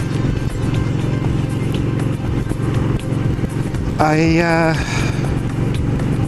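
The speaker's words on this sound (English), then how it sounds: "The one thing I don't like about this bike is that being a twin, it's got an awful lot of torque." A twin-cylinder motorcycle drones steadily while being ridden, a continuous engine and road rumble with wind noise throughout and a brief rising whine partway through; a rider talks over it.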